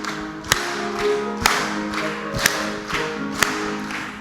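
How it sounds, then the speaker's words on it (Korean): A church congregation claps along during a worship song, with sharp claps spaced roughly once per second under sustained singing and music. "힘차게 박수 치면서"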